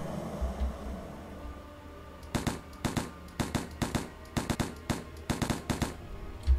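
Gunfire in the S.T.A.L.K.E.R. Lost Alpha video game, a series of sharp, loud shots fired in quick bursts and single cracks over a quiet background.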